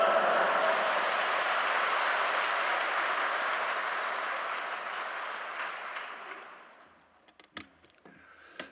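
Church congregation applauds at a special dawn prayer service at Yoido Full Gospel Church as the pastor comes out, a soft, even wash of clapping that gradually fades away, leaving a few faint knocks.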